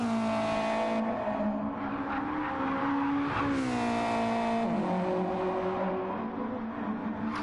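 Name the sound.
race cars driving in video game Gran Turismo 7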